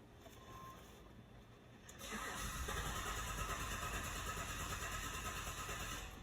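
A Chevrolet/GMC engine with a fuel pump fault cranks without catching. After a quiet moment the starter kicks in and grinds on in an even, continuous churn at moderate loudness, with no talk.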